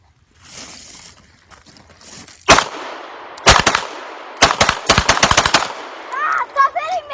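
Gunshots ring out at a shooting range: several sharp, loud cracks come in irregular bursts, some in quick succession, with brief chatter and movement noise between them.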